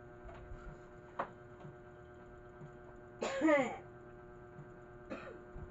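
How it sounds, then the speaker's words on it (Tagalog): A few harsh coughs in a quiet room: a short cough, then a longer raspy coughing fit, and another brief cough after. "Grabe naman itong ubo na to."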